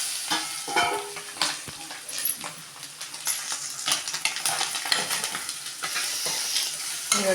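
Mutton blood curry with onions simmers and sizzles in a village-style pan, a close crackling hiss punctuated by irregular scraping and clinking stirs throughout, no talking.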